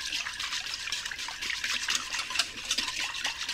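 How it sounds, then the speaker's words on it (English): A creamy beef stroganoff sauce with cream of mushroom soup is whisked in a crockpot, giving a soft, wet, sloshing swish that continues steadily up close without any talking. "I'm going to give this a mix"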